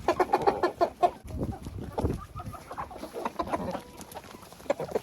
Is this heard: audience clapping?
no